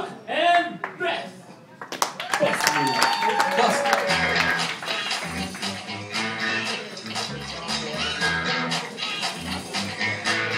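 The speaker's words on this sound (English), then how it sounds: "Ladies and gentlemen, a round of applause for Chuck and Beth." Scattered audience clapping for a singing duo blends into an upbeat band performance, with the claps mixed under music and singing voices.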